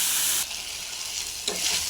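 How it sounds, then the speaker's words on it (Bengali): Spices fry with onions in a pan, a close, steady hiss with a brief louder stir of sizzling near the end and no talk. "মশলাটা ভাজা ভাজা হবে"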